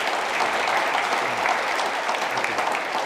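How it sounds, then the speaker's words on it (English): Audience at a river stewardship summit breaking into a steady, dense round of applause, sustained and even in level throughout, with faint voices murmuring beneath the clapping. "Please give them a round of applause."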